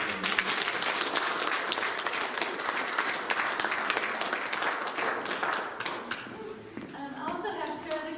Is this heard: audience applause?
yes